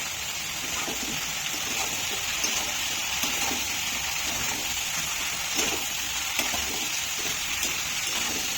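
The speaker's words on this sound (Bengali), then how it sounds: "আস্তে আস্তে ভাজা হবে।" Raw banana, ridge gourd and potato pieces frying in a pan, a continuous soft hissing sizzle with faint bubbling, steady and close, with no talking.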